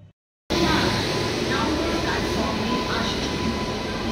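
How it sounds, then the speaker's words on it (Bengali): An express train rumbles close by, a loud and continuous drone that begins abruptly after a moment of silence and holds steady to the end. "আপনাদেরকে চলুন বলি ও ট্রেনটিও একটু দেখিয়ে দিই।"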